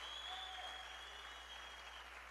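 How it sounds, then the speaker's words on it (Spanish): Church congregation clapping during a worship service, a faint, steady wash of many hands with a sustained tone ringing over it, no clear voices. "Dele palmas pues al que vive"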